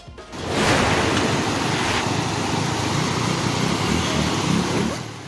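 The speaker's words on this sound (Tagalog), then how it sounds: "Sa gitna ng rumaragasang baha sa Barangay Paruwayan sa Alamada, Cotabato" Raging floodwater rushes through Barangay Paruwayan in Alamada, Cotabato, during heavy monsoon rain, a loud, steady roar of churning water that holds unbroken from start to finish.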